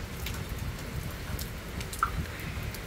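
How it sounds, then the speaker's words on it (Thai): Rain falling on a rainy day near a canal behind a house, a steady soft patter and hiss of drops throughout, moderately loud and close, with no talking. "บรรยากาศนะคะในวันฝนตกนะคะ"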